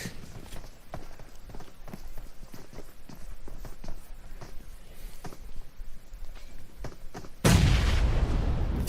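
Grenade explosions in the PUBG Mobile battle royale game, a run of sharp low thumps and clatter that ends in one loud, broadband blast.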